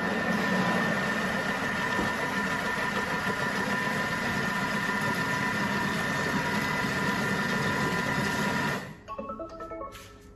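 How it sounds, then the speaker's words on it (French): A kitchen mixer blends chocolate banana mini muffin batter at speed 5, a steady loud motor whir with a hum that runs for about nine seconds, then stops abruptly, leaving faint clatter. "Et on va mixer 10 secondes vitesse 5."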